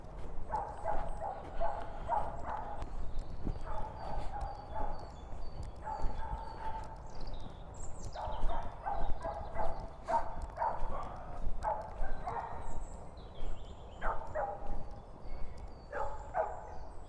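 Many dogs bark and yelp in repeated bursts along an outdoor track, some near and some farther off, with owners' voices shouting faintly among them.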